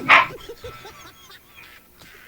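A dog gives one sharp, loud bark up close, followed by softer yips and whimpers, with another bark at the very end.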